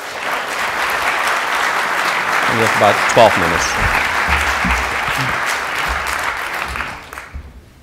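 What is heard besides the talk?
warm round of applause welcoming a speaker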